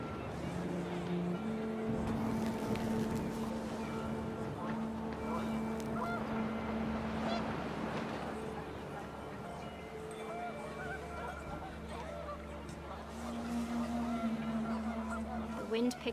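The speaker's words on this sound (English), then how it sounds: "The wind picked up, and panicked geese appeared and quickly went." A flock of panicked geese honk repeatedly amid gusting wind on an outdoor hunting trip in the video game What Remains of Edith Finch, the calls layered over a steady noisy background with some voice or music underneath.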